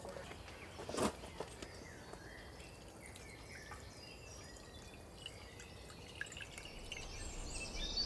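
Cramaillotte juice drips slowly through a nettle-fibre cloth filter, making faint, sparse patters over a quiet room hush, with one slightly sharper splash near the start.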